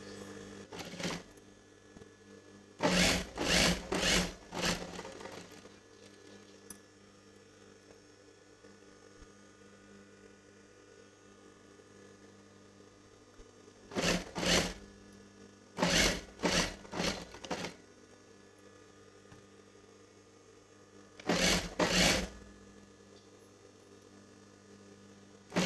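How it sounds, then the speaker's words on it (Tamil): An electric sewing machine stitches along the neck edge of a dress in short separate bursts, its rapid needle clatter loud and close, with pauses and a steady background hum between runs. "இப்போ வந்து நெக்கு ஓரத்தில் ஸ்டிச் பண்ணலாம்."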